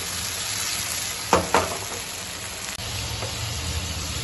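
Tomatoes fry in an oily karahi while achari karahi cooks, giving a steady, dense sizzle throughout, with a couple of brief louder crackles as the pan is stirred.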